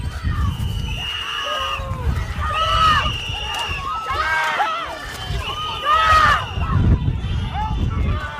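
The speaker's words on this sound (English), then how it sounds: "We saw observers shouting at the agents as they walked back to their vehicles." Observers shout and yell at federal agents walking back to their vehicles during a street altercation, several raised voices overlapping in loud, repeated bursts over a noisy outdoor crowd.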